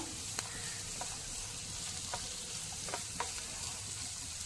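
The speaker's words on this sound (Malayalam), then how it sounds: "എന്നിട്ട് ഇത് നമുക്കൊന്ന് എല്ലാം കൂടി ഒന്ന് ഇളക്കി കൊടുക്കാം." A beans and spring onion stir-fry, salted, is stirred in a hot pan, with a steady close sizzle broken by a few light scrapes and taps of the spoon.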